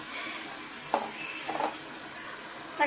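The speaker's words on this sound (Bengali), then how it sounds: "মশলাটা সুন্দর করে কষিয়ে নেব।" Spices sautéing in a pan for mushroom curry: a soft, steady sizzle with three brief spatula scrapes, heard up close over a short stretch without speech.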